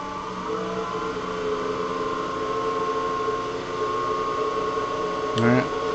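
A wood lathe spins at about 1500 RPM while turning and texturing a finial base, a continuous motor hum and whir with steady tonal bands, briefly joined near the end by a scraping tool sound.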